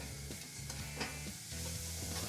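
Clam chowder base browning in a pot, a low sizzle under repeated rhythmic stirring strokes, fairly quiet and close with no voices.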